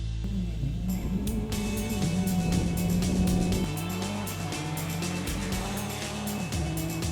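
Rally car racing hard over rough gravel roads at the Rally Bandama in Ivory Coast, a steady loud engine drone rising and falling through gear changes, with gravel crunch and rattle throughout, no talk.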